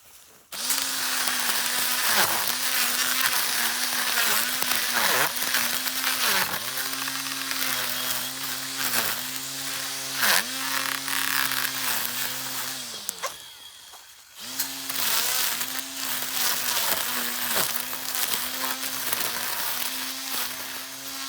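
An Edon cordless battery grass trimmer cuts grass with a loud, steady electric whine. The motor pitch dips briefly as it bogs in the grass, cuts out for about a second near the end, then spins back up.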